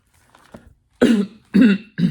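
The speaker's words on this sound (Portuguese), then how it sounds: "estou com um pigarro aqui" Three loud, close throat-clearing bursts in quick succession after a faint quiet start, no speech.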